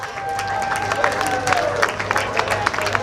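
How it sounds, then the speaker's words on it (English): Crowd applause at an outdoor Lions Club car show, a scatter of claps and some cheering spread across the moment, fairly loud with a faint tone running underneath. "Let's give Caliber Collision a huge round of applause."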